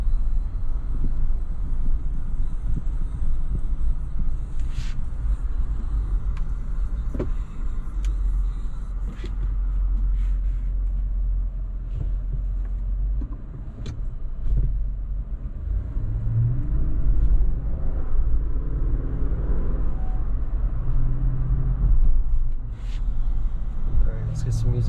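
Engine of a 2022 Lexus GX 460 accelerating, a low steady rumble with a rising swell heard from inside the cabin, while a person talks over it throughout.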